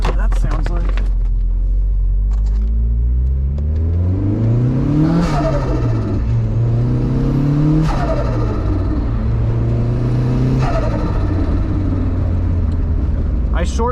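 A turbocharged convertible with the top down and a leaking, loud exhaust revs hard several times, each rise in engine pitch ending with a sharp shift and a blow-off burst, close and dominant throughout.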